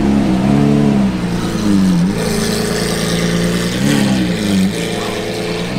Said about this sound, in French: je pense que là il y a un échappement modifié parce que vu l'agressivité que tu as au coup de gaz, c'est pas d'origine